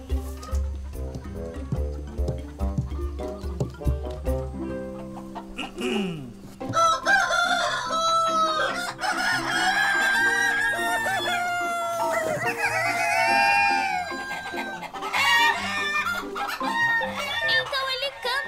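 A cartoon rooster crows at sunrise, with long rising and falling calls and clucking over a low sustained tone, loud and close.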